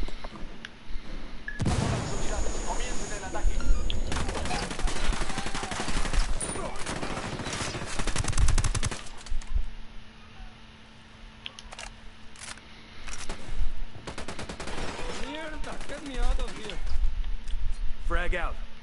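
Bursts of automatic and single-shot gunfire in the Ghost Recon Wildlands video game come in loud clusters with quieter gaps, while voices talk over the shooting.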